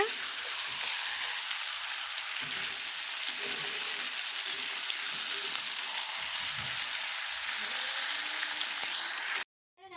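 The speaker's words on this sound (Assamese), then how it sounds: "এইখিনি ধুনীয়াকৈ ভাজি আছে" Steady, loud sizzling of vegetables frying in a hot pan, continuous throughout before cutting off abruptly at the end.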